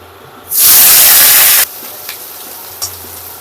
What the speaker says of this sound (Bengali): আমি অল্প অল্প করে মাছ দিচ্ছি কেন এখন এতে জল আছে তো খুব ছেটকাবে